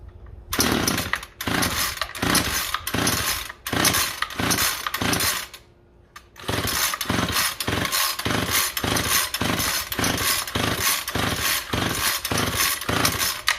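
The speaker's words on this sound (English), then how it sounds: "Pull the starter rope until engine starts." A small two-stroke engine, fuelled at a 1000:1 oil mix and set at half choke, is pull-started and runs loud and close with a rapid, choppy pulsing drone, briefly dropping out before catching and running on steadily.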